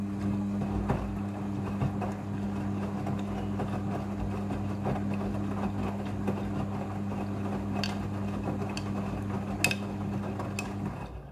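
A front-loading washing machine runs its spin cycle, giving a steady low motor hum with a constant drone and faint mechanical rattles throughout, fairly loud and unbroken by any voices.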